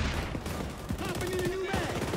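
Gunfire in the shooter video game XDefiant, a dense burst of rapid shots with a ringing tone in the middle, loud and continuous over a busy game mix with some voice.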